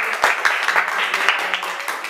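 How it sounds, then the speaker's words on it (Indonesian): Applause from a crowd, a dense patter of clapping with a few louder claps, fairly close and continuous. "Tepuk tangan lagi situ kan"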